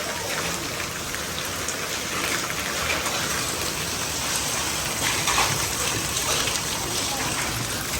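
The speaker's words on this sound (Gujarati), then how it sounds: "ચોમાસું કરા પડે." Hail pelting down together with heavy monsoon rain, a dense steady drumming and hiss of drops on surfaces throughout, with a few faint voices underneath.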